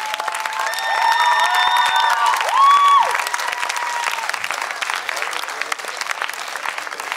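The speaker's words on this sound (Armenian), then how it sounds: "ծափարենք իսկապես շատ աշխատասեր և տաղանդավոր Դիաննային" A studio audience claps for a performer named Dianna, a dense, sustained round of applause with some faint tonal sounds over it at first, holding steady before easing slightly.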